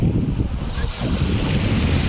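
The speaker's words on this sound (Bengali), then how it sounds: "পায়ের নিচের মাটিগুলো মনে হচ্ছে সরে যাচ্ছে যখন ঢেউ আসতেছে।" Sea waves washing onto the beach at Cox's Bazar, a continuous rushing surf roar mixed with wind buffeting the microphone, loud and close.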